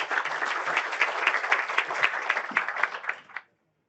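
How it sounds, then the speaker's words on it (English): Conference audience clapping for the next speaker at a healthcare technology talk, steady dense applause from a modest crowd that carries on for about three and a half seconds before cutting off into silence. "A little applause, thank you."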